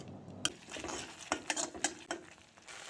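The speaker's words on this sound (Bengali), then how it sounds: "এখন সর্ষেটাও অল্প কষিয়ে নেব।" Mustard paste sautés in a pan as a utensil scrapes and taps against the metal in several irregular strokes over a soft sizzle.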